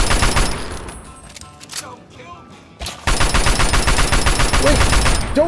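Game gunfire from Fallout 3: bursts of rapid automatic shots fill the opening second, a quieter gap follows, then sustained loud rattling fire returns from about three seconds onward.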